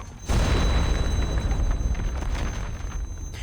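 Explosion in the video game Reverse: 1999 sending stone debris flying: a sudden loud boom followed by a rumbling, gradually fading blast tail.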